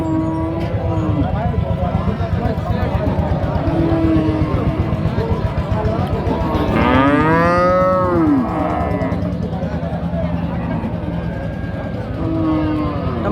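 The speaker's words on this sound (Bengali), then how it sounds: "কালো ক্রস ক্রস জাতের গাই আসলে" A black crossbreed cow gives one drawn-out moo at a busy cattle market, close and loud, over constant crowd chatter and traffic noise.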